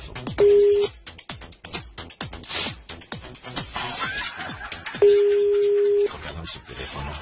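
Two steady telephone tones sound on a phone line after the caller hangs up, one short and one about a second long, between bursts of fast, clipped talk and clicks.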